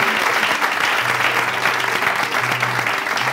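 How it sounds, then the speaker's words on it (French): A live studio audience on a French-language broadcast show applauds steadily and loudly throughout, a dense wash of clapping with a faint low hum underneath. "Applaudissez pour vous-même."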